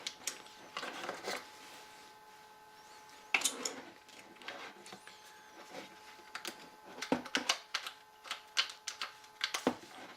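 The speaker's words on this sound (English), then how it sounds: "what we'll need to do is release a magazine" Releasing the magazine from a Ruger 10/22 rifle produces a string of close mechanical clicks, snaps and rattles in irregular bursts over a quiet background.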